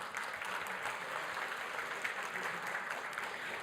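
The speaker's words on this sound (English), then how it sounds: "Please, a round of applause for our sponsors." A conference audience claps steadily for the event's sponsors at a tech summit. The applause is distant and fairly faint, a continuous even patter with no speech.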